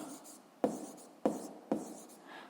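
Pen writing on paper during a physics lesson, three short sharp scratchy strokes close up with faint rubbing between them, no voices.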